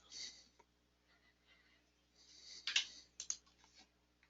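Mouse clicks on a computer running flow cytometry analysis software, a few soft, close clicks scattered over a quiet room background, with a small cluster of sharper taps near the end.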